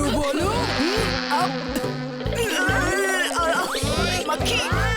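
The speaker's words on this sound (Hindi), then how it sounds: "मक्खी।" Cartoon fly buzzing close and loud through the whole stretch, a dense insect drone with rising and falling whine and warbling pitch sweeps over a steady low pulsing music bed.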